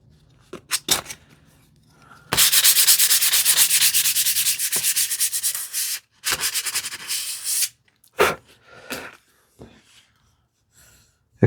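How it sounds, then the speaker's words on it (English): Sandpaper rubs steadily back and forth on a small wooden drawer pull, close and loud. The long stroking bursts come between brief pauses and handling taps. "sanding on this one to make it finish ready"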